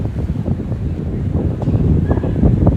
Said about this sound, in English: It's freezing out tonight. And it's a little windy,